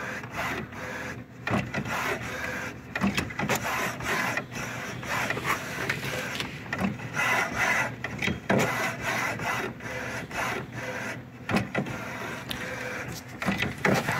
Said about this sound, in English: it took the paper in. It's doing something. So my printer is shaking because it's in a box.